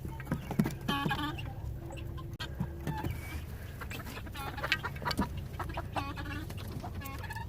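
Chickens and a rooster clucking on a farm during morning chores, a busy mix of close clucks and squawks with pattering and shuffling underneath, fairly quiet overall.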